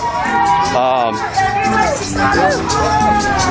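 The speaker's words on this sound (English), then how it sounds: "we're arriving at Chicano Park here with this crowd of folks who marched from Houston, Tilton, and East Austin" A crowd of marchers arriving at Chicano Park makes a busy hubbub of overlapping voices and chatter close around, with someone talking over the babble.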